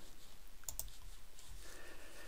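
A computer mouse clicks twice in quick succession while multiline text is being created in AutoCAD, crisp and close over a steady low background hum.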